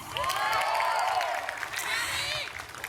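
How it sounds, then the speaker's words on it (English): A graduation ceremony audience claps and cheers for scholarship winners, a broad sustained wash of applause with scattered whoops, moderately loud and continuous across the stretch. "So much for holding applause, that's fine"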